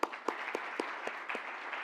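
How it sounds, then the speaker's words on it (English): An audience at a pilot launch event gives a short round of applause, with distinct individual claps audible over a moderate wash of clapping. "Can you give yourself a round of applause?"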